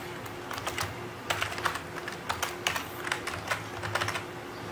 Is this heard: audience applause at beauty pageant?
no